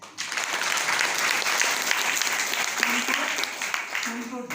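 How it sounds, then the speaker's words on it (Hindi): Applause for a brother during a Hindi church sermon, a dense crowd of hands clapping steadily and fairly close for the whole stretch, with a voice surfacing faintly near the end. "भाई के लिए ताली बजा दो।"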